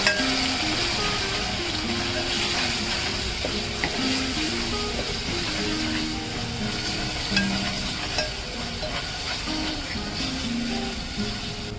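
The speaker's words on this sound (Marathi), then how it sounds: "मसाला आपण तेलामध्ये छान खमंग भाजून घेऊया" Masala spice paste roasts in hot oil, a dense, continuous sizzle and crackle with a spoon stirring and occasionally clinking against the pan throughout.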